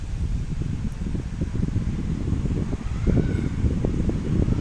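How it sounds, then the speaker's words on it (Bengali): An Atomberg Renesa 400 mm pedestal fan runs at speed 5 with a steady, close airy whoosh and a low flutter of moving air throughout. "তো এই ফ্যানটা আমি এখন এটা চালিয়ে দেখব।"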